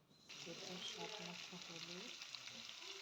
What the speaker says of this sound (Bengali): পেঁয়াজ আর আলু একসাথে ভেজে নিচ্ছি।